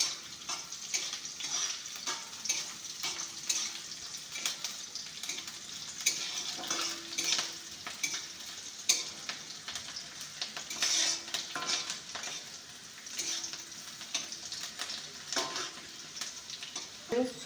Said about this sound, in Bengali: এদিকে আমি চিলি পনিরের জন্য ক্যাপসিকাম আর পেঁয়াজ একটু ফ্রাই করে রেখে দিচ্ছি